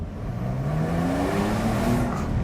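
A Porsche 911 Carrera engine in normal mode responds to throttle, a steady close rumble rising gently in pitch as revs build, with no talk over it.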